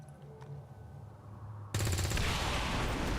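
Gunfire erupts in the video game XCOM, a sudden loud sustained burst of rapid automatic shots cutting in after a quieter low hum and lasting to the end.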